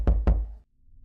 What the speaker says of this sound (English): The knocking isn't coming from the door, but somewhere else.